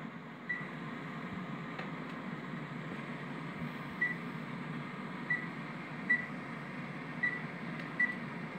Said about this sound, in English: We're gonna stick that in the microwave. We're gonna melt that.